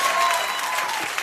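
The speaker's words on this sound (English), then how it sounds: "I mean, you can clap." Studio audience applause at a late-night talk show taping, a short, dense burst of clapping from a crowd.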